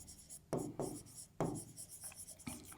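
Marker or chalk writing on a board during a physics lesson, a quiet series of short scratchy strokes, about five distinct squeaky scrapes in quick irregular rhythm, with no talk over them.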